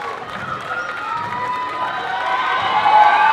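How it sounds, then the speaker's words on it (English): An audience at an end-of-year dance recital applauds and cheers as performers take the stage, a dense wash of crowd noise that swells steadily louder toward the end, with voices shouting over the clapping. "How about a round of applause, ladies and gentlemen, for Taualuga Production as they make their way onto the stage"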